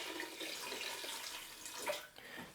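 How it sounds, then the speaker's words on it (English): Water runs from a tap into a cooking pot in a home kitchen, a brief, steady, fairly quiet stream with no talk. "I'm gonna add a little more water to the pot."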